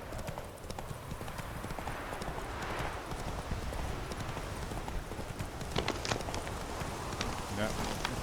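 Roach, Geralt's horse in the video game The Witcher 3, gallops in a fast steady run of hoof clip-clops over a low ambient wash, with a voice speaking now and then.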